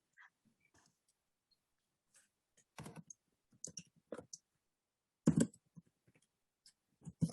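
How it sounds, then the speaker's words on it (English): Computer keyboard typing in a quiet room, faint scattered key clicks followed by louder bursts of several keystrokes, spaced irregularly with pauses between. "Are you typing something, ma'am?"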